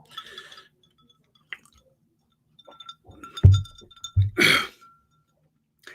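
Quiet clinks of glass followed by a couple of soft slurping sips of whiskey and a swallow, close and intimate, with near silence between.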